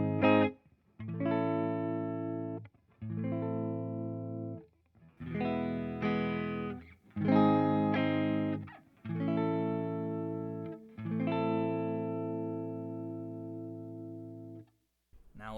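Electric guitar played clean through an effects pedalboard, several sustained chords strummed one after another with short gaps, each ringing out with rich harmonics and a gentle decay.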